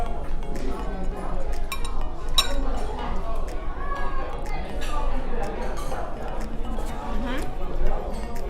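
Glasses clink together in a toast at a table over spicy Sichuan food in China, a few bright chinks near the start within constant busy restaurant chatter and nearby talking.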